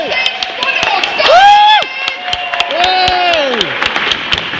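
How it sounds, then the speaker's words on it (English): An audience at a stand-up comedy show at Storey's Field Centre claps and cheers for a comedian: a dense patter of hand claps under high, rising whoops and cheers, loud and close. "So we're going to start the applause and cheering."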